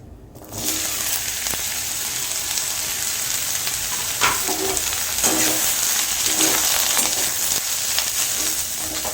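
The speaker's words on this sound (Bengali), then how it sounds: "এখন যেটা করব, কড়াইতে লাউ এবং টমেটো ভেজে নেব একটু তেল দিয়ে।" Bottle gourd and tomato frying in mustard oil in a wok, a loud steady sizzle that starts abruptly and carries on close up, with occasional stirring scrapes and no talk.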